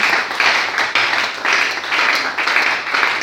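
A congregation at a church worship service applauds and cheers in a dense, continuous wash of clapping that rises and falls in waves for a few seconds.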